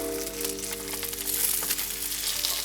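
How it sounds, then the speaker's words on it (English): Fish frying skin side down in a pan alongside polenta cakes, a continuous dense sizzle with scattered crackles and spits, close and steady throughout with no talking. "we're going to add our fish. So we're going skin side down"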